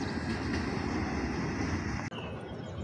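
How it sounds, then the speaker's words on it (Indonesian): A KRL commuter train rolls past, a steady broadband rumble of wheels and carriages heard fairly close and constant throughout, with a brief dip near the end. "Dari arah stasiun Pondok Jati ada KRL nih dari bawah."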